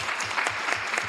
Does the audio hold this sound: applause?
yes